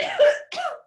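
A person coughs twice in quick succession, close and fairly loud, each cough harsh and brief with a short gap between them.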